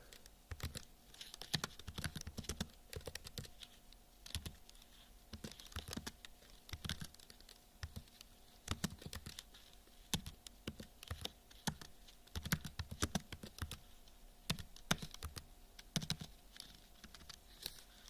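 A computer keyboard clatters under quick, uneven typing while code is written, with sharp key taps and occasional louder strokes over a faint steady hum, recorded close and quiet.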